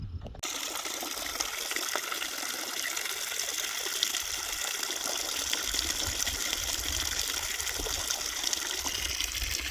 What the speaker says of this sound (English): After the water has run for about 5 minutes, you're going to take out your water vial, and we are going to fill it up to that little white line right there.